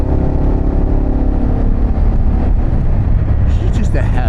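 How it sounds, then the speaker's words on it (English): Harley-Davidson Pan America motorcycle exhaust loping at low RPM while cruising at highway speed, a loud, steady low-frequency drone mixed with wind roar, and a brief higher rustle near the end. "this bike's sweet spot, 75, 80, it's just low RPM"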